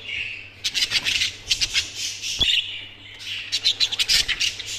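Pet birds in an aviary where several females have been added among the males, chirping and tweeting in rapid, clustered bursts. One sharp, loud click comes midway, and the birds are heard alone at moderate, close range.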